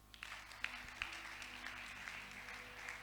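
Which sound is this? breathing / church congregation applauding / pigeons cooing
church congregation applauding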